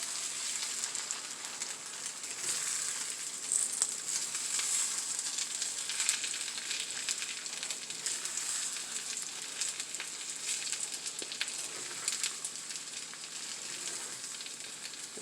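Hash and eggs fry in a pan with a steady, dense sizzle and crackle that holds at an even level from start to finish, with no talk over it.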